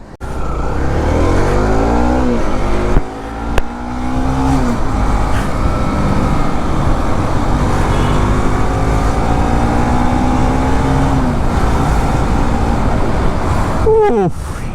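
A BS3 Bajaj NS200 motorcycle engine revs continuously and loudly at close range, its pitch sweeping up and down as the throttle rises and falls, with a brief dip near the start and a sharp burst near the end.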